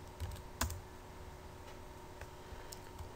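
A short burst of keystrokes on a computer keyboard while entering a server command, quiet, close clicks in a few quick clusters over faint room hum.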